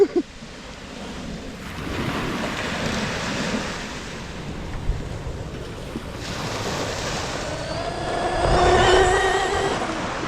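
A brushless RC buggy accelerates gently at low throttle outdoors, its motor whine rising toward the end over steady wind-like rushing noise, with no talking.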